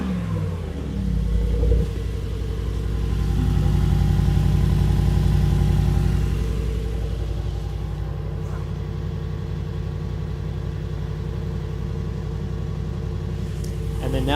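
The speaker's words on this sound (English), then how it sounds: "I'll give it a little rev here for you." A vintage Mercedes G-Wagon engine revs up close with the exhaust in normal mode, rising to a throaty swell and falling back to a steady idle rumble that continues.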